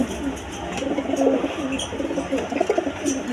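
Pigeons coo in a loft, soft rolling calls repeating close by over a busy low background hum of other birds.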